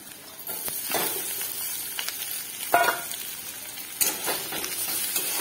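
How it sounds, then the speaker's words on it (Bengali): Potatoes fry in hot oil in a pan with green chillies, a steady close sizzle broken by a few sharper bursts as the pieces are stirred. "এবার আলুগুলো ভেজে নেব"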